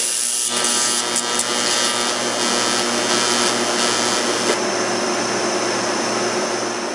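Argon pre-flow hissing ahead of TIG welding titanium for a custom welding cup, a steady loud broadband hiss and hum lasting throughout, close to the torch.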